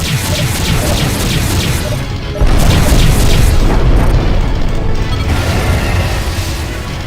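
The ship Calypso blows apart in the space combat game Freespace 2, a loud, continuous roaring explosion with a thick rumble and a sharper surge of blast partway through, sustained throughout.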